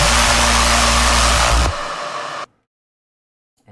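Layered synth bass parts from an electronic music production playing together, a thick sustained buzzing drone that thins out partway and then cuts off abruptly into silence.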